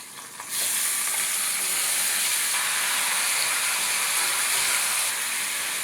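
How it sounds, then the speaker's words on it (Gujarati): Tomatoes hit a hot pan of ginger and green chillies, breaking into a loud, steady sizzle and hiss that holds unbroken close up after a brief quieter start. "બધું જ સરસ રીતે સતળાઈ જાય એટલે તેમાં ટામેટાં ઉમેરીએ."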